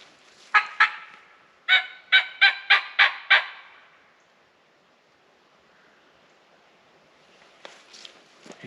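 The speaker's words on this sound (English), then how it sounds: "He's gobbling." A wild turkey gobbles outdoors during a spring hunt on Ohio public land: two short bursts, then a rapid string of five or six gobbles at moderate distance, with a fainter call near the end.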